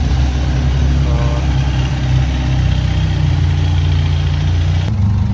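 A TRK 502X motorbike idles after a cold start, its engine a steady, loud low rumble that holds evenly throughout and cuts slightly near the end.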